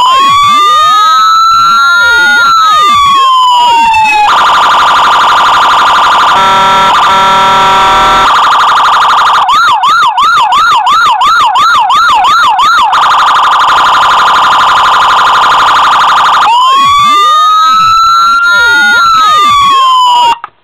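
A very loud vehicle siren cycles through its tones: rising and falling wails, a rapid yelping warble, a fast pulsing hi-lo pattern and a steady tone, then back to the wail before cutting off.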